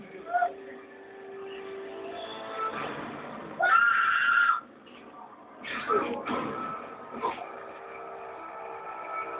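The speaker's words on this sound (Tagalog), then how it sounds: "May kabayo." A horse whinnies in a mixed outdoor scene, with a bright high cry standing out among other animal and background sounds while people talk nearby.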